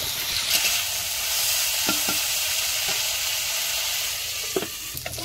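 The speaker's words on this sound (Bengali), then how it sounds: "আমি পুঁই ডাঁটাগুলো ভেজে নেব।" Malabar spinach stems fry and sizzle steadily in a pan, a continuous hiss with a few soft clinks of stirring near the end, no voices.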